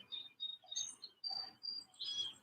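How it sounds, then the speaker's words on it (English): Birds chirp outdoors in short, bright tweets scattered across a quiet surrounding, moderately faint and repeating in brief bursts with no talking. "in my surroundings, you hear birds chirping"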